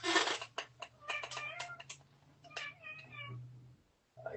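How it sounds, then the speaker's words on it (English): A cat meows several times in the background, its short rising and falling cries faint and a little distant over a low steady hum, with a few soft taps and rustles from a drawing table nearby. "I hear a cat somewhere."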